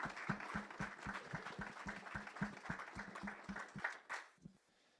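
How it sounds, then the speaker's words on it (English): Audience applause for the hosts Scott and Marshall at a technical conference keynote session: steady, moderately distant clapping from a seated crowd with a rhythmic low thumping underneath, tapering off abruptly near the end. "So we give Scott and Marshall a round of applause."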